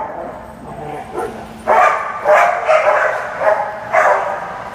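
A dog barks several times in a row, a string of sharp, moderately close yaps in a quiet setting, preceded by softer whining noises.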